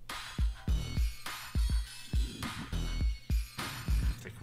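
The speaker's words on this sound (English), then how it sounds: "It's like really metal clanging sounds." Percussive metallic clangs in the intro of a song, sharp hits repeating in an uneven rhythm with bright noisy bursts over deep booming bass, loud and with no talking.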